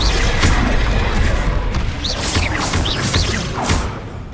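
Spell blasts from the Confringo blasting curse in the Hogwarts Legacy video game, a dense run of booming impacts and whooshes amid constant battle noise, loud and close, with no speech over them.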